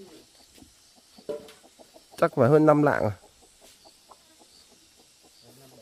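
A hen in a forest clearing gives a burst of loud, close clucking in the middle, with scattered softer calls around it while a person talks quietly.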